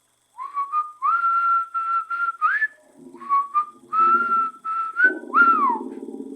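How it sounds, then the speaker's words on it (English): Someone whistles a short tune, clear, close phrases with rising and falling slides, broken by brief gaps and a low rustle near the end. "The one that whistles."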